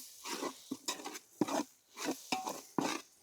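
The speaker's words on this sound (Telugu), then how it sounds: "ఇవన్నీ వేసిన తర్వాత ఒకసారి కలుపుకోవాలి" A spoon stirs salt, chili powder, turmeric, garam masala and coriander powder into tomato gravy in a pot while treehouse camping near Araku. It makes soft, close scraping and clinking against the pot in irregular strokes, with no one talking.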